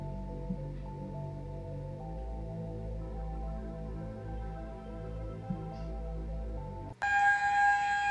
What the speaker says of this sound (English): These are sirens in the towns that I live in.